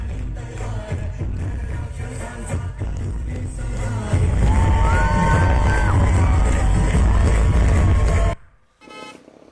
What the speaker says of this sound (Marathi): फटाक्यांची आतषबाजी करत जल्लोष करण्यात आलेला आहे